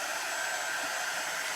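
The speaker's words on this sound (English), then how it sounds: "then you would let it sit, or use a hair dryer" A hair dryer blows steadily at close range, drying a pottery-look craft project with a constant broadband whoosh and a faint whine throughout, with no talking.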